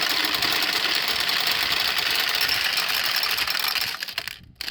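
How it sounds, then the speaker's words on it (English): Pachinko balls pour into the hopper of a 1976 Nishijin King Gorira machine, a dense continuous metallic rattle and clatter of many small steel balls that thins out abruptly near the end. "add pachinko balls to the top tray, and that was just one handful that filled that hopper back up"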